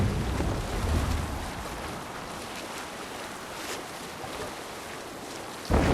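A longship sails in Assassin's Creed Valhalla, with a steady rush of wind and water over the hull. A deeper surge comes early, and a sudden burst at the very end breaks the otherwise even wash.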